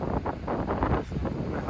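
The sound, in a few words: wind on a rooftop near the sea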